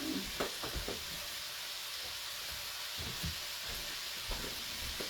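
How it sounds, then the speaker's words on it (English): Onion sautéing in a hot pan, a steady close sizzle and hiss running throughout, with a few soft stirring scrapes breaking through, no voices. "I want to put a little, just a little coloring on the onion"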